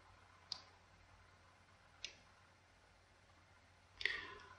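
Three sharp, faint clicks spaced a couple of seconds apart from a button being pressed on a SpaceMouse Enterprise, heard close against a quiet room.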